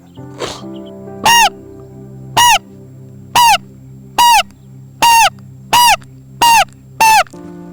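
A man imitates a crow, letting out eight loud, evenly spaced caws over a steady low hum.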